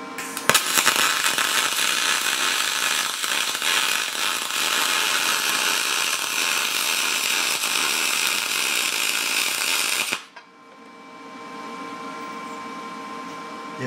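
A Lincoln Electric Magnum 100SG MIG welder burning a steady bead: loud, continuous crackling buzz for about ten seconds, then it cuts off abruptly, leaving a quieter background hum.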